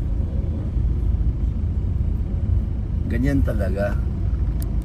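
Steady traffic rumble fills a city street on Perez Avenue in Dagupan, continuous and close, with someone talking over it in the second half.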